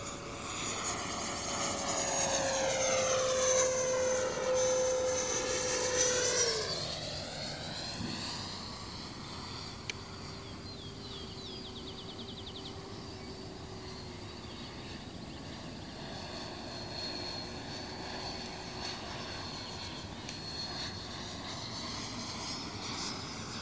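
A Freewing F9F-8 Cougar scale model jet with an 80mm electric ducted fan flies test maneuvers, its loud whining fan sweeping down in pitch as it passes, then settling into a steadier, more distant drone.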